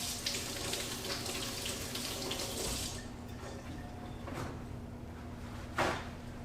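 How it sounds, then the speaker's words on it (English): An apple is rinsed under a running kitchen tap, the steady splash of water lasting about three seconds before it shuts off, followed by quiet handling and a single clunk near the end. "We always want to remember to wash our fresh fruits and vegetables off before we cook with them"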